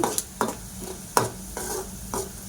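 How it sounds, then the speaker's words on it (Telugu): A tablespoon of coriander seeds and a spoon of cumin dry-frying in a pan over a low flame, with several sharp scraping stirs breaking through a soft, steady crackle, close by. "1 టేబుల్ స్పూన్ ధనియాలు, 1 స్పూన్ జీలకర్ర చిన్న ఫ్లేమ్ పెట్టి ఫ్రై చేయండి."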